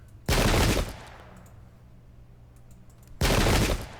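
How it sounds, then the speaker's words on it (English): Two loud musket volleys crash out in an American Revolution video game battle, each a dense burst of overlapping shots lasting about half a second, separated by a quieter lull with low ambient rumble. "Let's really try to get some shots here. Maxwell's Corps. Begin firing"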